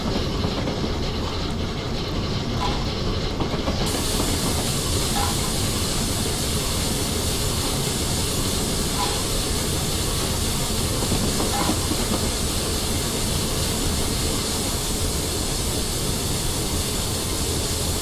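Steam locomotive hauling a vacuum-braked train in Train Simulator on the East Coast Main Line between London and Peterborough, the Flying Scotsman: a steady loud rumble of running gear with hissing steam and faint rhythmic wheel clicks throughout.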